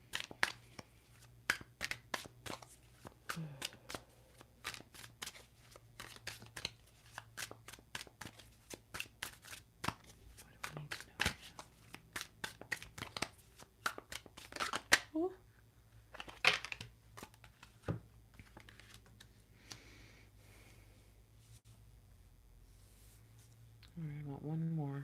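Tarot cards being shuffled and handled, giving a run of rapid crisp riffling clicks and flutters with short pauses and some card snaps, close up, with a steady low hum beneath and no talking.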